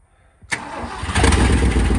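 An old truck, left unused for 20 years, cranks and fires up with a sudden catch and settles into a loud, rough, steady running roar close by, with no voices.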